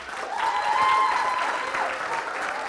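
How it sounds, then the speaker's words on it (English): A lecture audience gives a round of applause as two volunteers come down to the stage, steady dense clapping that swells and then holds at a moderate level without speech. "Big round of applause"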